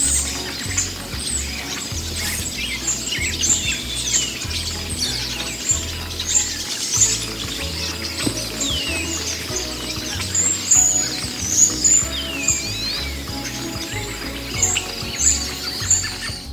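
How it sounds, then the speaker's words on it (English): Many different birds sing at once in a forest at Sidney Spit in the Southern Gulf Islands, a dense layered chorus of chirps, trills and whistles, close and lively, with no talk. "I've never heard so many different birds. It just sounded like an incredible symphony."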